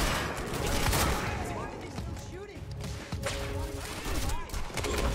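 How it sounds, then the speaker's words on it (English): Dense, rapid gunfire from the shooter game Quantum Break, a loud, near fusillade of overlapping shots and impacts that continues through the whole stretch. "Why are they still shooting?"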